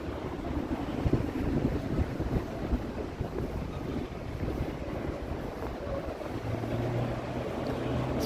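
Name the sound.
wind on a breezy day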